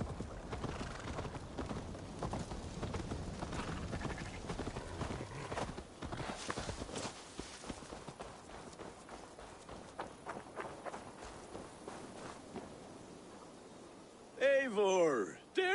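Rapid hoofbeats of a running horse clatter through busy game audio in Assassin's Creed Valhalla, with a burst of other sound near the end.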